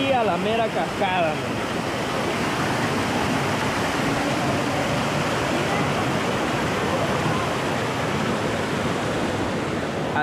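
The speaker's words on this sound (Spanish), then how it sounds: "Hasta aquí a la mera cascada." The waterfall at El Salto de Quezaltepeque roars in a constant, loud rush of falling water, with a short bit of voice at the start before the steady water noise continues alone.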